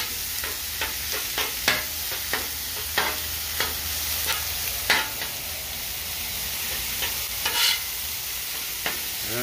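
Meat fries in oil in a pan with a soft continuous sizzle, broken by repeated scraping strokes of a utensil stirring it, moderately quiet and without voices.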